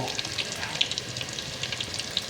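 Steady sizzling of pork frying in fish sauce and oil in a pot, a continuous crackle with small pops, heard close and fairly quiet.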